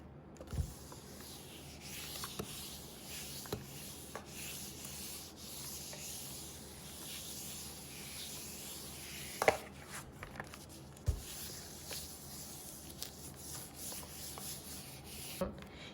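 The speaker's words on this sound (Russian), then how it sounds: "проглаживаем с нажатием, выпуская весь воздух из нашего фоамирана" Hands pressing and smoothing a sheet of foamiran craft foam, giving a steady close, soft rubbing and sanding texture with a few sharp taps throughout.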